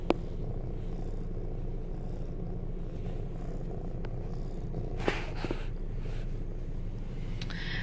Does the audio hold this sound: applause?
no